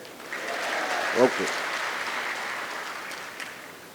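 An audience in Mavalankar Hall, New Delhi, claps together at a political meeting, a dense round of applause that swells briefly and then fades, with a voice heard over it.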